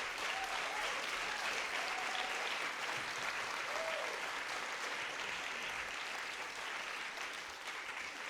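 Sustained applause from a crowd at a people's summit after a keynote speech, a dense, even roar of clapping that holds steady and fades slightly at the end, with a few faint voices mixed in.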